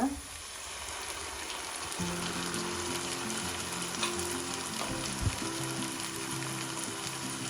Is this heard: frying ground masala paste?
yes